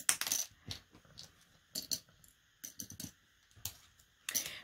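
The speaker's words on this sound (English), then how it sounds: "I'll pick a color of button and put buttons in it." Small plastic buttons from a thrift-store jar clatter and click in several quick bursts, like coins dropping, with short pauses between handfuls; close and fairly crisp, no talking.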